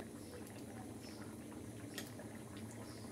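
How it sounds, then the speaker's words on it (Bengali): Fish curry with shing and tilapia fish boiling in a pot: soft, steady bubbling and popping, faint and continuous throughout. "এই দেখুন আমার তরকারিটার বলক উঠে গেছে।"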